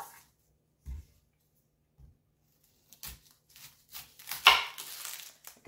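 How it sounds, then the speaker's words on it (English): A dull kitchen knife chopping onion and broccoli on a board, a few sparse soft thuds and cuts at irregular intervals, getting busier toward the end, with no talking. "next I'm going to cut up some onion and"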